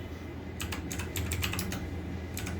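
Keys clatter in quick irregular bursts on a computer keyboard as a fastboot command is typed, close and clear over a steady low hum, with a brief pause midway before a final short flurry.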